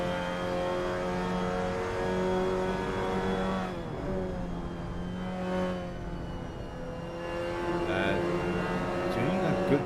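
A 2021 Mazda MX5 engine revving in the Assetto Corsa racing game, a steady buzzing drone that rises and falls with throttle while a commentator talks over it.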